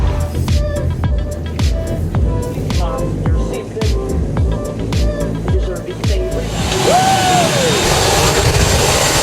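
A loud, constant airplane engine roar fills the scene, with busy mechanical clatter and hum throughout, rising into a steadier broadband rush near the end.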